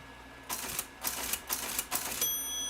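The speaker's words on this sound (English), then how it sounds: "Yes, all the typing going on here." Rapid clattering keystrokes of a typewriter come in short bursts nearby, several clusters separated by brief pauses, ending with a steady ringing tone.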